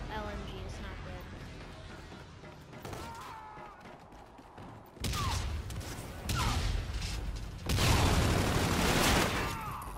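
Light machine gun bursts in Infinite Warfare gun game mode, sustained loud crackling fusillades that grow denser and louder toward the end, under a player's excited voice.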